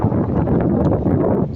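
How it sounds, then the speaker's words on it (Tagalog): Strong wind buffets the microphone outdoors at a worksite where riggers wait out the weather, giving a loud, steady roar with gusty rumbling throughout and no voices. "Kasi malakas yung hangin."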